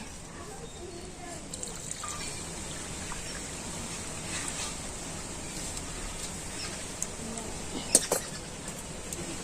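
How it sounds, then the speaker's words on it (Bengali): Whey being poured from a wok through a strainer while making chhena for rosogolla, a soft continuous trickle and splash of water running steadily throughout, with a few brief louder spatters near the end. "এবারে আমি কড়াটা ধরে ঢেলে দিচ্ছি"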